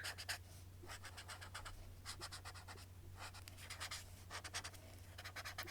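Marker drawn across sketchbook paper in quick rhythmic scratchy strokes, quiet and close, with short pauses between clusters and a low steady hum underneath.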